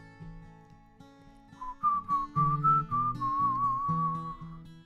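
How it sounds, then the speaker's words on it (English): A person whistles a wavering melodic tune over soft background music, close and moderately loud. "It's the whistle."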